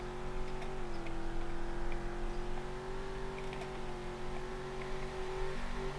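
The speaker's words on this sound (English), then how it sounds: "I think the exhaust sounds are bad." A video game car engine in Ultimate Driving drones at a steady, slightly shifting pitch with a buzzy exhaust tone, continuous and moderately loud, with faint ticking beneath.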